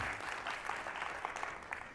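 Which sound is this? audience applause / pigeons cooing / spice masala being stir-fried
audience applause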